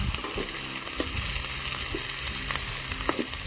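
Onion frying in oil in a pan at a village party, a dense continuous sizzle close up with occasional stirring clicks and scrapes, no speech.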